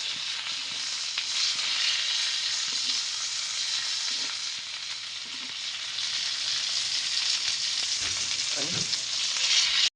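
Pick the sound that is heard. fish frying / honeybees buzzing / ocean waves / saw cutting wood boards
fish frying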